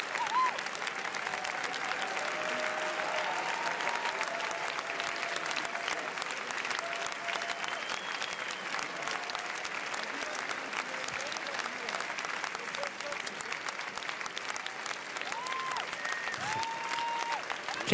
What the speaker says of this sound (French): Oh, ça continue à applaudir.